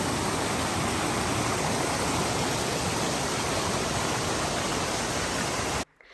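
A mountain stream rushes beside the hiking trail to Gveleti Waterfall near Stepantsminda in Kazbegi, Georgia, a loud, steady broadband roar of flowing water with no voices that cuts off abruptly near the end.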